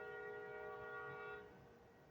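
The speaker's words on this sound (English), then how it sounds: "You can probably hear the train." A train passing near a house beside the tracks, a steady sustained horn tone over a low rumble that fades partway through, heard alone without talk.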